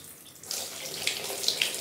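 Tap water runs steadily into a sink or tub while a dog is bathed at home, a continuous close splashing hiss that swells after a brief quieter start, with no talk over it.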